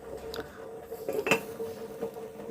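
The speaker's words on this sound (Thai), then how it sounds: "ปิดฝาหม้อไว้" A metal lid is set onto a pot of cooking soup, a few light close knocks and clatters with one sharper clank.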